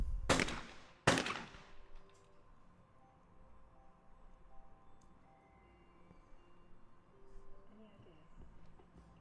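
Two loud, sharp shotgun blasts in quick succession at a women's junior skeet shooting competition at the 2018 European Championship in Leobersdorf, Austria, followed by quiet ambience and faint talk.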